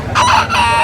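A close, loud burst of native chicken calls at a village market, a short rooster-like crow with clucking, heard alone in under a second.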